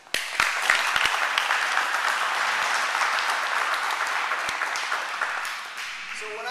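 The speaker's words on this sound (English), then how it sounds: "I want you to give a big round of applause for Mr. Henze." A seated audience gives a speaker a long, steady round of applause, a dense wash of clapping with a few sharp nearby claps at the start that tapers slightly toward the end.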